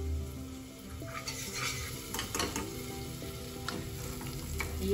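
Chopped onions fry in a pan for khichdi with a continuous close sizzle, mixed with stirring scrapes and light clinks of utensil against the pot.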